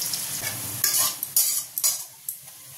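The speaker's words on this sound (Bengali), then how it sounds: "এবার এতে পেঁয়াজগুলো দিয়ে বেরেস্তা করে তুলে রাখবো।" Onions frying in hot white oil in a wok for biryani, a steady close sizzle broken by several sharp bursts and scrapes as the pieces are stirred, with no voices.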